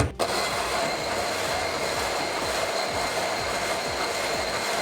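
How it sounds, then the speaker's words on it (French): An immersion blender smooths chocolate cream for a milk chocolate and passion fruit Yule log, its motor droning loud and steady without a break after a brief start, with no talking. "Pour qu'elle soit bien lisse, on va lui donner un petit coup de mixeur plongeant."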